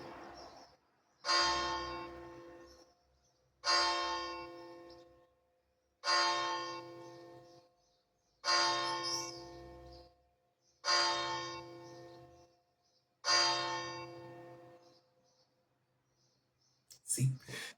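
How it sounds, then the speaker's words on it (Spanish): Church bells strike the hour, six evenly spaced, resonant tolls roughly every two and a half seconds, each ringing out and decaying before the next, clear and prominent with a brief click at the end. "suenan campanadas cada hora y cada media hora"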